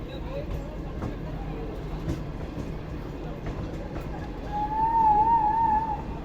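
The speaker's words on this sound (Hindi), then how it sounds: "तो ये आहिस्ता आहिस्ता ट्रेन हमारे निकल चुकी है 7 शरीफ रेलवे स्टेशन से।" A train slowly pulling out of a railway station in Sindh, with a low rumble and occasional clatter, a horn-like tone rising near the end, and people talking over it.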